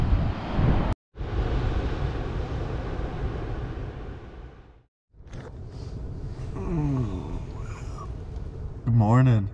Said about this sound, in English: Waking up to the sound of the waves and the sight of the waves.